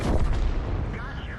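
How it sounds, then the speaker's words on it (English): Tank cannon fire in a video game, one heavy, booming blast that rolls off into a rumbling tail over about a second. "whenever my gun reloads, I just squeeze the trigger"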